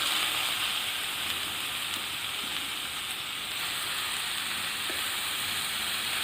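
Chicken pieces hit a hot pan for Kerala-style chicken mappas, giving a steady, close sizzling hiss that holds evenly throughout without pause.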